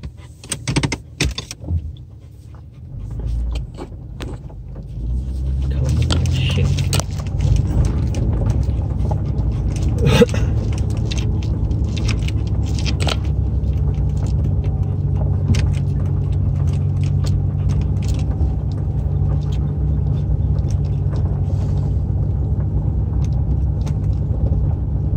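A four-wheel-drive vehicle on a rough road, a few clicks and knocks at first, then a steady low engine rumble with rattles and bumps that continues close and unbroken to the end.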